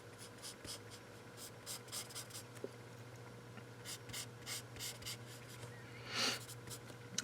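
A pen sketches fabric folds on paper in a cartoon drawing, making quiet, close scratching strokes in short repeated bursts over a faint steady hum, with one slightly louder stroke near the end.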